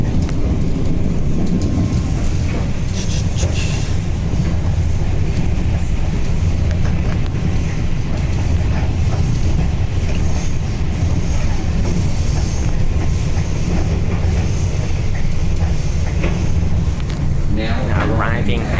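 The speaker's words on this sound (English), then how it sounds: "train coming straight through your golf course?" A train rumbles past close by beside a golf course in Adelaide, steady low roar with clattering wheels and some wind buffeting, continuous throughout.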